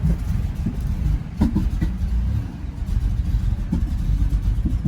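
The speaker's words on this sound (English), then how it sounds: "Oh, it's backfiring a little bit." A car engine running on hand sanitizer as fuel idles with a rough, low rumble and a few faint irregular pops of backfire, close up with no talking.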